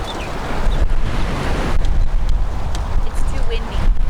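Wind gusts steadily across an island shore with surf, rumbling into the microphone as a loud continuous roar, with brief faint higher sounds over it.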